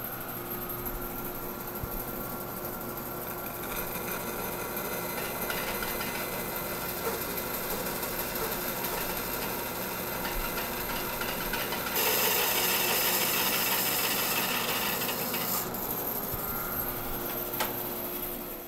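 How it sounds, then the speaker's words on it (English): A bandsaw cuts through a gang of wood components blocked together, giving a steady, close, continuous whirring drone that grows louder and harsher from about twelve to sixteen seconds as the blade bites deeper, with no voices. "I'm essentially going to follow the exact same process on the bandsaw that I followed with the template, this time just with the gang of components all blocked together."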